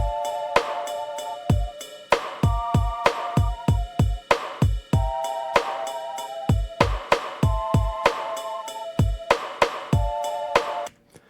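Synthesizer chords on an EP-133 K.O. II change in a repeating progression over a steady electronic beat with punchy kicks and crisp hi-hats; no voices.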